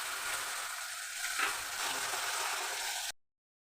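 Spices for prawn muitha fry in a pan after a little water is added, giving a steady close sizzle for about three seconds before cutting to silence.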